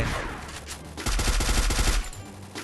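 Gunfire in the mobile shooter Free Fire, a rapid burst of automatic shots that is loud and close, with scattered single shots around it.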